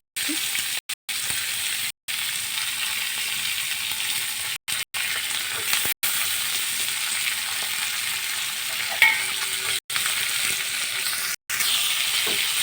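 Leafy greens frying in a pan with chopped onion, potato and green chili, giving a steady, fairly loud sizzle that runs through the whole stretch with only brief dropouts and no talking.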